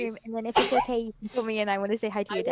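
A single short sneeze bursts out between stretches of continuous speech, close and fairly loud against the talking voices.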